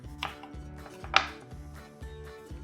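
A knife slices backyard-grown red potatoes into thick slices on a cutting board, several crisp, evenly paced chops with one sharper knock, close and clear with no talking.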